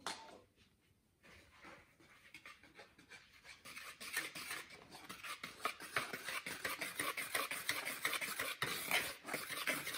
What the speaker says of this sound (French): vous allez mélanger le tout